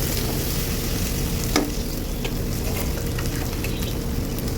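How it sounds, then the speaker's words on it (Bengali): Ginger and garlic fry in a pan with a continuous loud sizzle and crackle, broken by occasional stirring scrapes, close up and without talk. "আদা আর রসুনটাকে দিয়ে বেশ ভালো করে একটু ভাজা ভাজা করে নেব"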